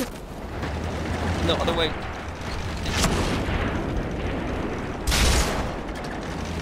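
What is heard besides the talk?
tank being shot at in World of Tanks video game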